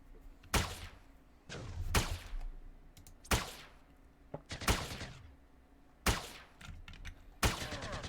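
Sharp gunshots fired in a video game, about seven distinct bangs spaced irregularly over several seconds, each with a quick decay, standing out loud over a low ambient game background.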